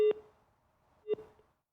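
A telephone busy signal after a dropped call during a live news phone interview: two short, clear electronic beeps about a second apart, each ringing briefly before fading.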